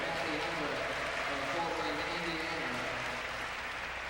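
Crowd applauding at a men's volleyball match, steady clapping filling the whole stretch with voices mixed in.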